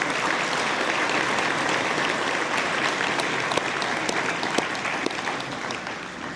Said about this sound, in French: applaudissons nos dignitaires de la table d'honneur